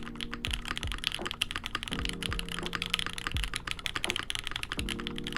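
Typing on a gummy O-ring and top-mount compatible mechanical keyboard, a steady run of close, crisp alpha key clacks with periodic deeper spacebar thocks.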